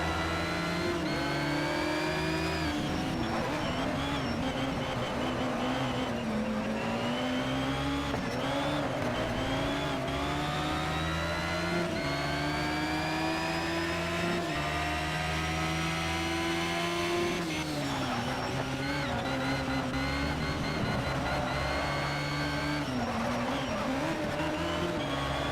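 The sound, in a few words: race cars overtaking in Need for Speed Shift 2 video game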